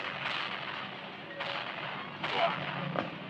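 Gunfire from the school-life game Sakura School Simulator, with four separate shots or short bursts cracking out at uneven intervals over a steady background of game noise.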